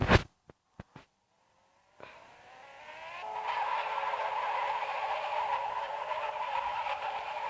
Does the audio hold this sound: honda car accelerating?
yes